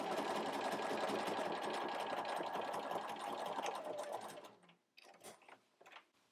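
A sewing machine runs a steady, close, continuous stitching burst along a princess seam on a culotte jumpsuit, then stops abruptly, leaving a few faint handling clicks and rustles.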